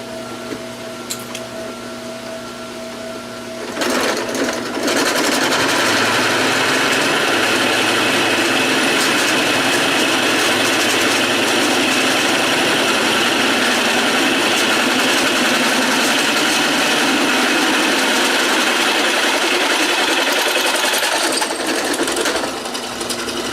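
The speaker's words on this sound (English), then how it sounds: "I have to drill a 1/2 inch hole in here, and I don't want it to grab." A wood lathe motor spins up and holds a steady loud whirring hum, with a faint grinding edge as a half-inch bit drills into wood, then winds down.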